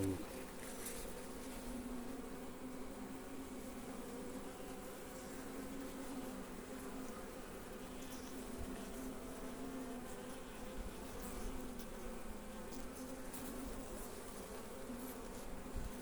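Honeybees at a hive during a spring inspection, a continuous low buzzing drone throughout, faint and steady with light background noise.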